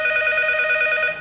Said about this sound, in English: causing the phone to start ringing.